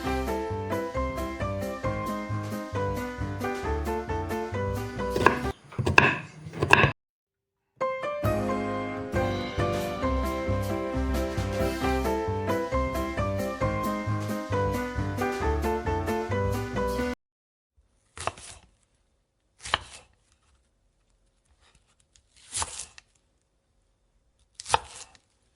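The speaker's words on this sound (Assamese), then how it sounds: "লগতে দুটা পিঁয়াজো কাটি লৈছোঁ।" A knife chops onions on a board in a long run of fast, even strokes, then after a pause a few isolated, sharp cuts spaced seconds apart, close and distinct.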